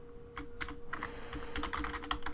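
Someone types a SQL query on a computer keyboard, a close run of quick, uneven key clicks and taps with brief pauses between bursts, with no voices.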